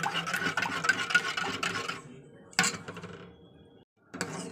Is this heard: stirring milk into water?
yes